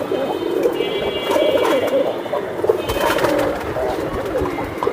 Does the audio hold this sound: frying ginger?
no